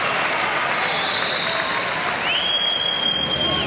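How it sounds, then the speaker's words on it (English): Crowd at a 1997 Mann Cup lacrosse game between the Victoria Shamrocks and Niagara Falls Gamblers applauding in a continuous, even roar that fills the arena, with a sustained whistle-like tone running through it. "Nice round of applause from the crowd, seeing the defensive play by Bremner."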